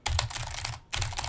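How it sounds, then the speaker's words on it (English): Rapid, continuous clatter of a mechanical keyboard being typed on up close, with a brief pause in the middle before the keystrokes resume at the same steady pace. "I'm talking and I'm typing on a mechanical keyboard"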